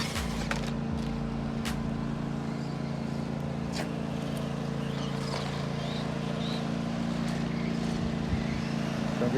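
A heavy engine rumbles and drones steadily as a tractor runs nearby, with occasional clicks and rattles over the low, continuous motor noise.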